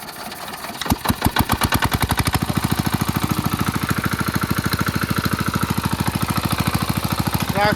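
A water pump engine, its pipe first primed with water, cranks with a few uneven bursts and then catches. It settles into a loud, steady, rapid thumping idle close by, running unchanged to the end.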